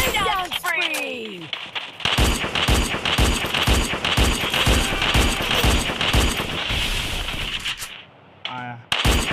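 Rapid bursts of automatic gunfire from the Free Fire video game, dense and loud through most of the clip, with game announcer voice and effects, a brief pause near the end before shooting resumes.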